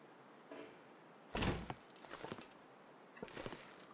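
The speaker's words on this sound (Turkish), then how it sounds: "Kapıyı kapat bakalım." A door closing in the survival game The Long Dark, a sharp knock near the middle followed by a few softer rattles and thuds, with no talk.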